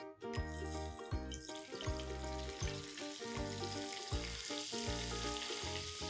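Butter and oil sizzle on a hot tawa, a steady close frying hiss with faint metallic clinks of a utensil tapping at intervals, and no talking.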